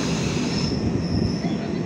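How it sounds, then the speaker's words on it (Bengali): A train pulls into Majerhat station with loud, continuous metallic wheel squeal over steady rumbling rail noise. The sound is close and unbroken, with no voices. "আমাদের ট্রেন এসে পৌঁছালো মাঝেরঘাট স্টেশনে"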